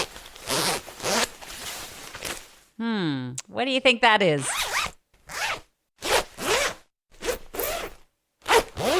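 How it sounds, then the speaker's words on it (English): Several quick zipper pulls rasp in short bursts, crisp and close, with a person speaking briefly between them. "a zipper being zipped up"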